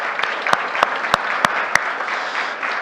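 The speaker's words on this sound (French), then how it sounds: "j'aimerais aussi qu'on applaudisse toute l'équipe technique et toute l'équipe d'organisation" An audience at a tech conference session applauds the technical and organising team, steady clapping throughout with a few loud, sharp claps standing out nearby.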